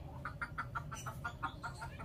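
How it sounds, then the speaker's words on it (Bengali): A chicken clucks in a quick, even series of about ten short calls, faint and somewhat distant over a low background rumble in a workshop where an engine is being repaired. "আবার মুরগিটা শুরু করেছে।"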